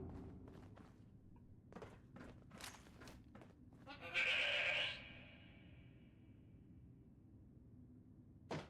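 A sheepsquatch imposterling creature in Fallout 76 lets out a single loud bleat that ends in a ringing tail, set between scattered soft footsteps and clicks.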